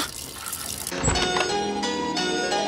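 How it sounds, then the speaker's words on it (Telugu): Water runs from a tap into a sink, a steady splashing rush that swells after a moment and continues without a break. "ఆ ట్యాప్ కారుతూనే ఉంది"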